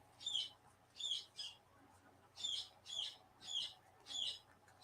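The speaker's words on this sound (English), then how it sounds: "I have birds." Pet birds chirping indoors, a steady run of short high tweeting bursts repeating about every half second with brief pauses, faint and somewhat distant against a quiet room hum.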